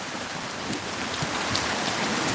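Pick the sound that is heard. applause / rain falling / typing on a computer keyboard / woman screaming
rain falling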